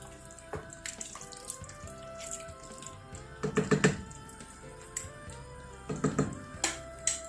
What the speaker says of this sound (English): Now I'm going to add some water to it.